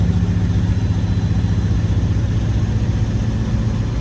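Several trucks idle together in a waiting line at a facility, a steady, loud low diesel rumble running continuously with no breaks.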